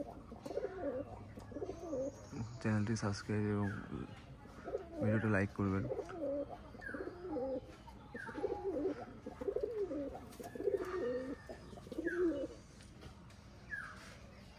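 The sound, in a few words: pigeons cooing in a loft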